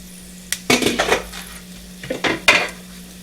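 A metal pot lid clanks and rattles among pots and pans in a few sharp bursts, near and fairly loud, with a low steady hum underneath and quiet gaps between the knocks.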